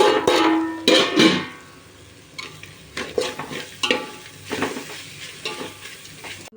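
Fried prawns with chili powder in a pan, sizzling close up with a burst of loud scraping at the start, then softer irregular stirring and clinks against the pan over a faint hiss.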